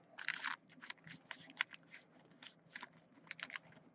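Panini Donruss Diamond Kings baseball cards are pulled from their wrapper, a quiet run of close crinkling, rustling and sliding card sounds with no voices.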